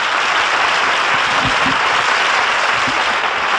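Loud, dense audience applause at a live concert fills the whole clip as a continuous roar of clapping, with a few brief low voices under it.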